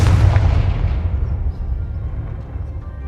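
A single heavy blast from the Confringo fire spell in Hogwarts Legacy, a loud booming explosion that hits at once and then rumbles and fades over about three seconds.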